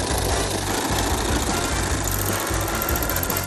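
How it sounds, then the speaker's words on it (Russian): An overlock serger finishes the edges of blouse fabric, running as a dense, steady mechanical whir with rapid stitching chatter, loud and close without pause. "Края обрабатываем на верлоке."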